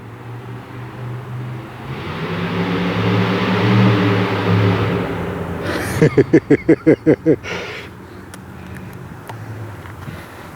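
A 2016 car engine fitted with cheap baffles rumbles at idle on a cold start, then breaks into a run of rapid, evenly spaced loud sputters before fading out as it dies.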